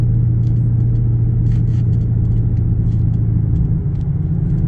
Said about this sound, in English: As I zippity doodah down the road in the Scat Pack